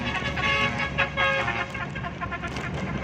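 Trucks rumble past on a road beside a home in Pueblo, a dense, loud traffic roar with brief horn-like tones rising over it and no talking.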